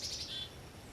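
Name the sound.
birds chirping on a cold winter morning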